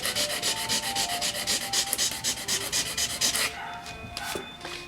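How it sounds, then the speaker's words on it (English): Rhythmic back-and-forth sanding strokes scrub a dented car body panel down to bare metal, loud and close, with fast regular passes for several seconds before easing off into lighter, quieter rubbing. "we're gonna sand this down to bare metal, this area we got the dents in"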